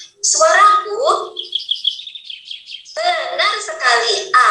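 A bird chirps in quick, bright bursts, a run of short tweets then denser chirping, close and clear with no other sounds.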